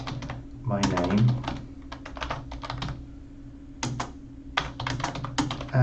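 Keys clatter on a computer keyboard as a name is entered while making a research poster, bursts of rapid clicks separated by short pauses, close and moderately loud over a steady low hum with a voice speaking.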